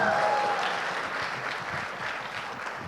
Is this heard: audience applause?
yes